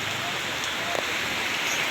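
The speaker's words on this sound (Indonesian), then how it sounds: "Hujan balas ton." Steady rain falls without a break for a couple of seconds, a dense even hiss close by with no talking.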